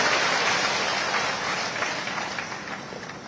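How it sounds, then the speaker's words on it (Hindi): A large crowd at an Adi Gaurav Samman ceremony at Mangarh Dham applauds loudly to welcome President Droupadi Murmu, a dense, roaring wash of clapping that fades slightly toward the end. "हमारी राष्ट्रपति महोदया श्रीमती द्रौपदी मुर्मू जी का एक बार जोरदार तालियों के साथ अभिनंदन करें"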